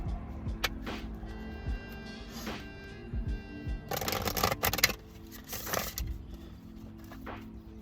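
Crisp riffling and flicking bursts of cards being shuffled, several quick rustling rounds close by, with quiet handling sounds between them.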